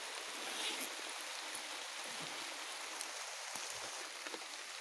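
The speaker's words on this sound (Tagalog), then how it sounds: "Umuulan na po." Steady rain falls on a forested trail on Mt. Talaing in Caramay, Roxas, Palawan, a continuous soft hiss of drops pattering on leaves and ground, with a few closer drips standing out.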